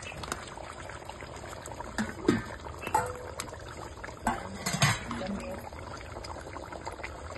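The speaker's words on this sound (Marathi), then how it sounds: "गरम पाणी टाकू थोडा." Hot water is poured into a cooking pot of simmering potato curry in a village kitchen. It makes a brief splashing pour under moderate background noise, with people talking nearby.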